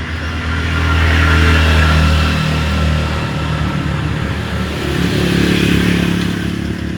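Motorcycles rumble past on a road close by, the engine drone swelling and easing twice over several seconds, loud and steady with no voices.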